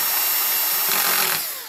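A spare power drill on its lowest torque setting runs steadily under load, tightening a reamer, with a continuous loud whirring motor sound that tapers off at the end.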